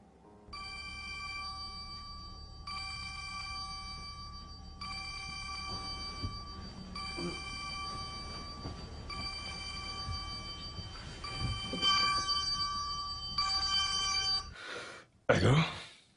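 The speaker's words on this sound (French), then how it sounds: "Oh mon Dieu, Obed, décroche ce téléphone." A telephone rings indoors, repeating in regular bursts of bright tones for most of the stretch, moderately loud, with faint background noise and a few thumps before it cuts off.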